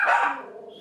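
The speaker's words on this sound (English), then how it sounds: "Now home alone with her dogs, Maribel used to spend her days working meni" Dog giving a single sharp, close bark that fades into a brief trailing whine, heard alone without any talking.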